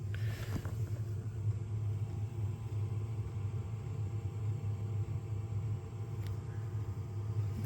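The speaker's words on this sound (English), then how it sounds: "there shouldn't be any reason for this drive to fucking keep going on and on and on" A computer drive in a desktop with an ASRock Z87 board and Core i5 runs continuously, giving a steady low hum and rumble with a faint click or two, with no talk.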